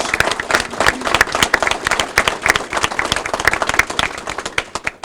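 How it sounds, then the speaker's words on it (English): A room full of people applauds employees at a corporate announcement, dense close clapping that holds steady for several seconds before easing slightly at the end, with no talking over it. "Let's give the employees a round of applause."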